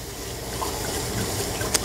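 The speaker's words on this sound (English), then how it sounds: "Let me rinse it off." A cooking utensil is rinsed under a running kitchen tap while gravy is being made, a steady close stream of water splashing into the sink with a brief clink near the end.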